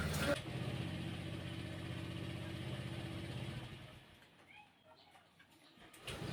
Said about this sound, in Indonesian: seperti ini digas mau nyala, cuma kalau dilepas gasnya mati